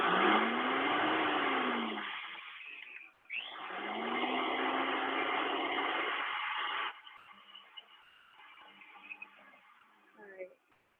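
Flax seeds grinding to powder in a kitchen blender, in two loud, steady whirring bursts with a short pause between them, then a lower, rougher running sound with faint rattles near the end.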